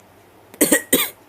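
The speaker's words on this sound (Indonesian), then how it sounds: "Tuh kan batuk es terus sih." A cartoon character coughs twice in quick succession, close and fairly loud over a faint background hum, with a brief softer catch just before the first cough.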